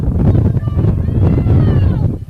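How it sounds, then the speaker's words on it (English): Steady wind buffeting an outdoor microphone at a rugby match in Box Hill, a low rumbling roar that fills the whole clip with faint distant voices underneath. "Windy old afternoon in Box Hill."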